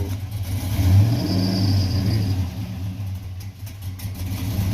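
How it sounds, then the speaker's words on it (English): A Chevrolet Caprice Classic with an LS engine and an exhaust leak revs up once, holds a raised rumble, and settles back toward a lower idle. The car is close by and there is no talking. "We got a little bit of exhaust leak, though."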